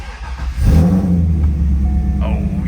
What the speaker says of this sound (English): Now for my favorite part, we're going to fire this car up.